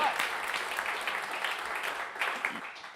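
Audience applause after a live band set at a radio show performance, steady dense clapping filling the room for the full stretch with a few louder swells.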